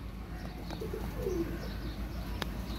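A pigeon gives a faint, soft coo in a loft among caged pigeons, low in level over a steady hum of background noise.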